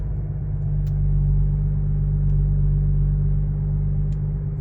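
A fully warmed-up car engine idles at 1000 RPM with a steady, low, even rumble for several seconds, close and uninterrupted, with a few faint ticks above it and no voices.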